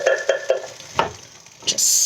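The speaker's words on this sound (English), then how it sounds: "Just stirring that around a little" Tomato sauce gets stirred in a hot pot, a few rhythmic spoon scrapes over a low sizzle, then a brighter burst of hissing at the end.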